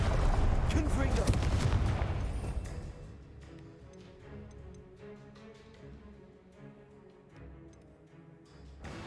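The Confringo blasting curse in Hogwarts Legacy lands as a loud burst of crackling, explosive noise for the first two seconds, then fades into softer clicks, ticks and lingering game effects.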